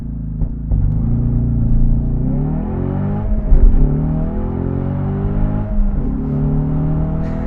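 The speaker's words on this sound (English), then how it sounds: "how about we do a proper launch and see how quick this EcoBoost can go" A Ford Mustang EcoBoost High Performance with a manual gearbox launches hard from a standstill under launch control, its engine roaring close and loud as the pitch sweeps upward through rising revs, dropping briefly at shifts before climbing again.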